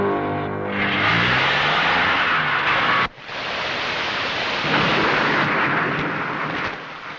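Heavy rain in a Telugu film scene roars as a dense wash, with deep booming thunder crashes at the start and a sharp break midway, and no talk.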